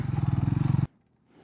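A Triumph Speed 400 motorcycle idles with a close, pulsing engine rumble for under a second before cutting off abruptly, leaving near silence as the bike is parked.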